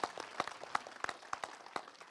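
An audience at an International Nurses Week celebration applauding the governor, a thin, scattered round of claps with a few distinct loud hand claps standing out.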